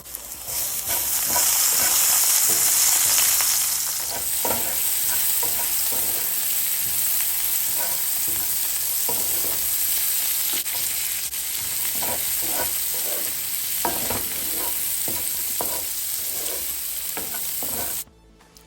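Purple onions sizzle steadily in a hot pan, a loud continuous frying hiss broken by frequent scraping stirs, close by, with no voices.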